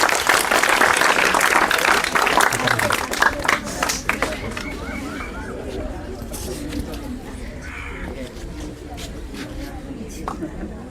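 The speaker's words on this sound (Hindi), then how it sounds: "ताली बजा दे।" An audience claps for a student at a Bihar matriculation results gathering. The loud, dense applause fills the first few seconds, then thins and fades while people chat and murmur nearby.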